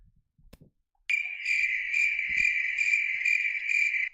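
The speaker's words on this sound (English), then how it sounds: "No, really, I do hear a cricket." A little brown cricket found among leaves on a sidewalk gives a continuous, shrill, pulsing trill. It starts abruptly after a few faint knocks and carries on steadily and fairly loud.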